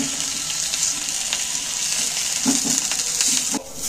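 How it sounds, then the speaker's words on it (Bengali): Potatoes turned and fried in oil in a pan for a Bengali-style chicken dish make a steady, close hiss and sizzle, with a few soft scraping clinks as they are stirred. "আলুগুলোকে এবার আমি একটু উল্টে পাল্টে ভেজে নেব।"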